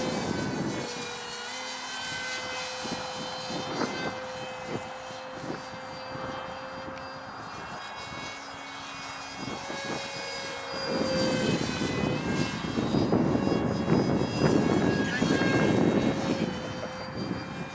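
A large R/C Pegasus XL propjet model airplane flies loops, its turbine-like whine steady and fairly close, then swells louder and rougher toward the end as it passes nearer.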